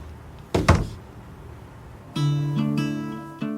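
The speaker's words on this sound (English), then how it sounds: "That's Maldonado dropping his phone on the table, right in front of me." A phone dropped onto a table lands with a sharp double thunk close by, then a steady electronic tone sequence follows with no talk.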